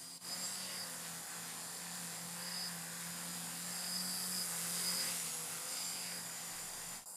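A homemade vertical take-off and landing aircraft circles and flies a figure eight on its propellers, giving a steady, fairly loud whining drone with a low hum that stays constant throughout, with no talking.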